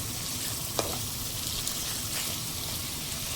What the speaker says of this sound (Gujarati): આપણે આમને થોડી વાર પાકવા દેશું તેલમાં